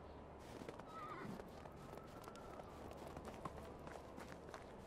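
A horse whinnies faintly amid soft hoof clops and footsteps over a steady low ambient hum in the video game Medieval Dynasty.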